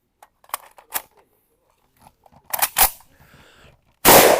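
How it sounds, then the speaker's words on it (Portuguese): An SVT-40 rifle being reloaded: a handful of sharp, close metallic clicks and clacks spaced over a few seconds, with a loud broadband burst at the very end. "Vamos recarregar e tentar de novo."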